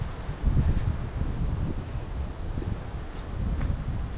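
Strong, cold wind in Baguio City, Philippines, buffets the microphone in low, rumbling gusts, with faint rustling underneath and no voices.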